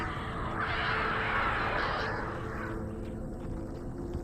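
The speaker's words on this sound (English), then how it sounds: "That just went from like zombies to crows." Crows caw in Alan Wake Remastered on PS5, harsh raspy calls washing over a dense, noisy rumble of game ambience, loud and close for a few seconds with no talking.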